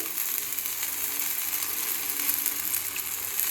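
Oil sizzles steadily on a bottle gourd dhapata flatbread cooking on a griddle, a continuous bright hiss with faint crackles, close and even throughout with no voices.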